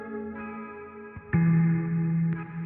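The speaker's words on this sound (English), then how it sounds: "You can hear a very small amount of the sort of like delay effect from the echo" Sustained synth tones shift through a few notes, each change leaving a soft trailing echo and a wash of reverb behind the sound.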